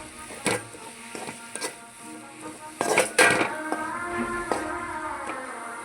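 Fenugreek leaves stir-fried in a pan, with close metal spoon scrapes and clinks against the pan in irregular bursts and a faint sizzle underneath, no talk.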